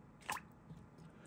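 Air bubbling up through ink as a Sheaffer Snorkel Statesman fountain pen fills over an ink bottle, a single soft wet squish followed by faint gurgles, close and quiet.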